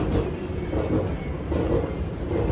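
Rumbling of a regular metro train in Istanbul heard from inside a carriage, a steady low roar and clatter that holds throughout with no talk.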